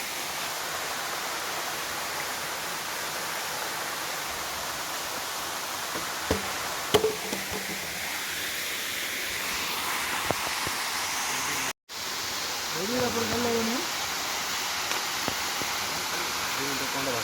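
Steady roar of rushing water at a waterfall where a pre-wedding shoot takes place, a constant broadband wash throughout with a brief cut partway through, and a voice speaking over it near the end.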